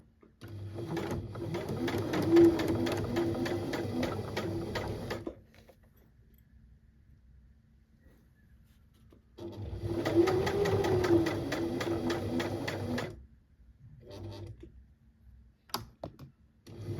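Sewing machine stitching a waistband in two long, close runs of rapid mechanical whirring, separated by a quiet pause, followed by a few faint clicks.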